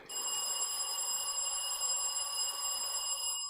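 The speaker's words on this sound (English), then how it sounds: "Let me hear the bell from KNUST." A quiz contestant's bell rings in one long, loud, unbroken metallic trill at a business-knowledge competition, bright and sustained, heard alone with no talking over it.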